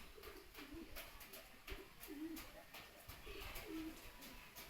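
Pigeons cooing in soft, repeated throaty phrases, faint and fairly close, several calls spaced a second or so apart against a quiet indoor background.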